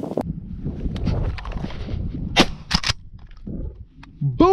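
Gunshots during an opening-day dove hunt outdoors near Yuma, Arizona: a couple of sharp, loud cracks in quick succession over rustling wind noise, with brief quieter stretches between.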